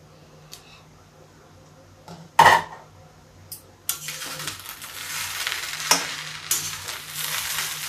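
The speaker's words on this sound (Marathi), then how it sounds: "त्याच्यानंतर खालची बाजू परत वरती करायची चांगला वापलून घ्यायचा भात" Tempered rice being turned in an iron wok, with a sharp metal clank followed by a building sizzle and scraping stir strokes, faint background voices at the start.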